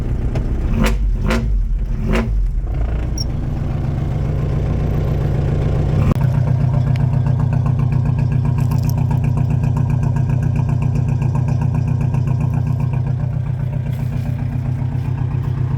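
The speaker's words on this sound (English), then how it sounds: "So this is going to be the first start." A VW Rabbit pickup diesel engine cranks with a few heavy, chugging pulses, then catches and settles into a steady, loud, clattering idle that runs on without pause.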